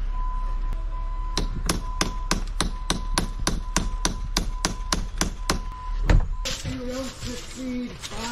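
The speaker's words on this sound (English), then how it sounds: "Find a bigger hammer." Sharp metallic hammer blows ring out in a steady rhythm, about a dozen evenly spaced strikes, followed by a shuffling clatter and voices.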